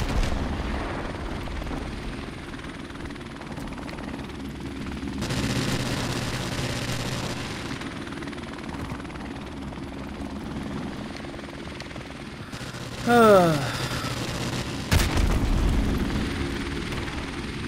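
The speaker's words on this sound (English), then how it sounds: "Enemy helicopter approaching." Steady loud thrumming rotor roar of a helicopter in Call of Duty: Modern Warfare Remastered multiplayer throughout, with a few sharp shots and bursts near the end.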